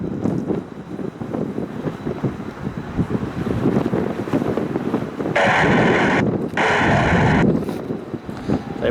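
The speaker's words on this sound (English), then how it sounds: "This wind, when it hits you, it almost knocks you over." Strong wind gusts of about 45 mph batter the microphone at an airport, producing constant rough buffeting with two loud, harsh blasts in the latter half.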